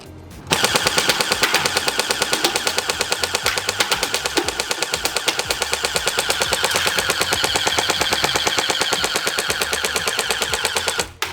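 An Elite Force H&K MG4 airsoft machine gun, fired one-handed, lets off a long, continuous, rapid burst of sharp clattering shots. The burst is loud and close, runs for about ten seconds and stops abruptly.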